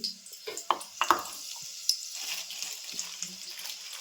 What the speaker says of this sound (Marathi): मोहरी जिरे टाकून घेते